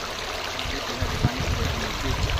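Water gushing steadily through a broken check dam, a continuous rushing trickle with small splashy bursts near the middle, heard close up with no voices.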